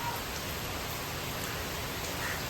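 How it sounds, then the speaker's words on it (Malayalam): Rain falls steadily at a staycation spot in Varkala, Kerala, a soft, even hiss of drops on surfaces that stays quiet and continuous throughout, with no talking. "ഇവിടെ ഒരു മഴയൊക്കെ പെയ്യുന്നുണ്ട്."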